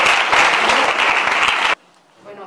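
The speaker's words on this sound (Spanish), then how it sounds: "Le damos un aplauso y empezamos." A library audience greets a guest with a loud burst of applause, dense clapping that stops abruptly after under two seconds, followed by near silence and a faint murmur.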